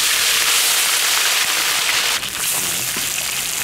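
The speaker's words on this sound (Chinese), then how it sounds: "煎鱼了，" Fish frying in plenty of oil in a large wok, a loud continuous sizzle with dense crackling spatter throughout, briefly dipping then resuming as the pan is moved.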